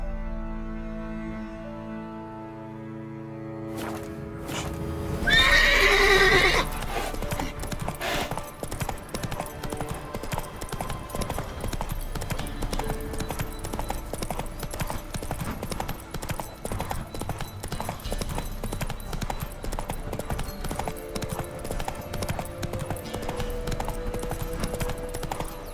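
Roach the horse in The Witcher 3 gallops in a steady, rhythmic clip-clop of hooves that keeps going for most of the stretch. Music plays early on, and there is a brief louder burst that may be a neigh.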